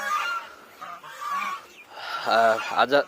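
Domestic geese, including Chinese geese, kept as pets and being fed fresh grass, honk close by in several loud, nasal calls that grow stronger toward the end.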